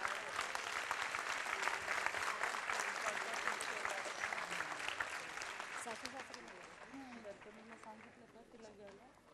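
Steady applause from an audience at a foundation day event, dense clapping that slowly fades over several seconds, with voices surfacing near the end.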